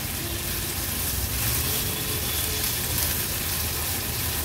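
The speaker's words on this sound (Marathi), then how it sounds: "गॅसची फ्लेम लो ठेवते आणि हा कांदा व्यवस्थित शिजवून घेते" Onion frying in oil with a crush of ginger, garlic and chilli, a dense, even sizzle that holds steady and close throughout, no voices.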